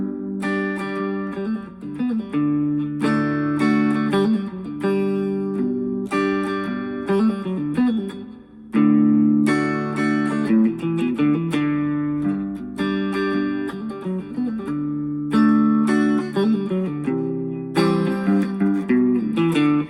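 Acoustic guitar riff, with quick hammered and pulled notes ringing over strummed chords, repeating phrases with a brief pause midway, played alone and up close.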